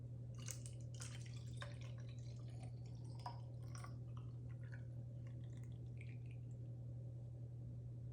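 Liquid trickles and drips into a small travel bottle during a refill, faint and sporadic for the first few seconds over a steady low hum, then mostly fades.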